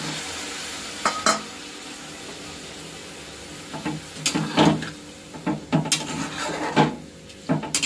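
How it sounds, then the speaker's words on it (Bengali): Pumpkin stems cook in a pan under a soft sizzle, then a series of knocks, scrapes and splashy bursts come as water goes in and the pan is stirred. No voices are heard. "জলটা দিয়ে দেবো এখন"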